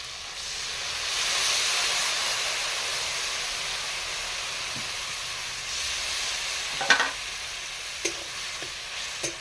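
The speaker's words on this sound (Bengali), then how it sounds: "এইভাবে মশলাটাকে কষবো" Spice masala for prawn kofta curry sautéing in a pan, a steady loud hissing sizzle with occasional stirring clinks and scrapes of a utensil toward the end.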